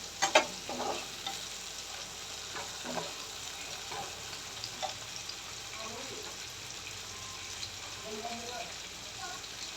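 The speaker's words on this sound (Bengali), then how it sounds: "এই যে আমি চিংড়ি মাছ আর পেঁয়াজটা ভাজি করে নিচ্ছি" Shrimp and onion frying in a pan, a steady soft sizzle with occasional stirring scrapes and clicks, with a voice talking intermittently over it.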